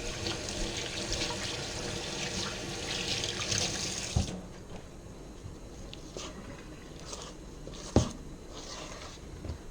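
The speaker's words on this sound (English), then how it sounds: "when your hands start getting like this, you need to rinse them off again." Cookie dough rinsed off hands under a running tap: steady water rush for about four seconds, then the flow stops, leaving quiet handling sounds and a sharp knock near the end.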